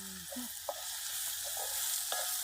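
Beef fry sizzling in a pan with a steady broadband hiss, punctuated by a few soft clinks and scrapes of a spoon as it is stirred; no voices.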